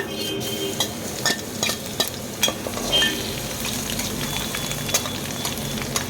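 Cumin, mustard seeds, dried chili, bay leaf and crushed garlic fry in hot oil with a steady sizzle, broken by sharp clinks and scrapes of a stirring utensil against the pan.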